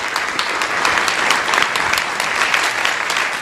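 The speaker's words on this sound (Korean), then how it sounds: "따뜻한 박수 부탁드리겠습니다" Sustained warm applause from a forum audience at a digital economy event in Korea, dense steady clapping filling the room for several seconds with no talk over it.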